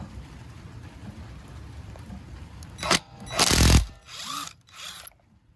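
A Ryobi PCL265 impact wrench with a 21 mm half-inch socket hammers a bolt off a pickup truck outdoors in the rain, a steady patter of rain giving way to a couple of loud, close bursts of rattling impacts.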